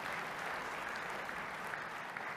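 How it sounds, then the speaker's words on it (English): Steady audience applause at a conference demo, a dense even wash of many hands clapping heard from a distance, fairly quiet and continuous without voices. "Round of applause for Nick and their recovery."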